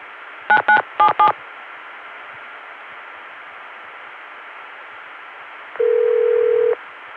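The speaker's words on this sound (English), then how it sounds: "getting a Connecticut dial tone via the 281 PBX" Touch-tone digits come through a 1981 Connecticut line on a 281 PBX, four quick tone pairs over a faint hiss, then silence and one steady tone for about a second.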